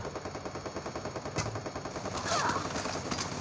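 Rapid automatic gunfire from a video game. It comes as steady, evenly spaced bursts that stay loud and close for the whole stretch, with a brief sharper crack partway through.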